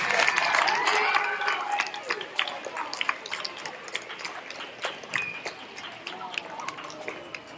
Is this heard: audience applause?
yes